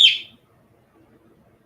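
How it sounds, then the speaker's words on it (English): A pet bird indoors lets out a single sharp, bright chirp at the start, close and loud, then quiet room tone follows. "Yes, there's a bird here as well."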